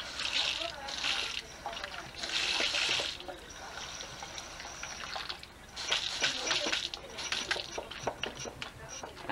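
Water splashing and sloshing nearby in uneven surges, with a voice talking over it.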